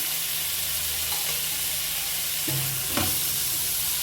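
Chopped tomatoes and onions frying in oil in a pan, a steady soft sizzle throughout with a couple of brief stirring scrapes partway through, no talking.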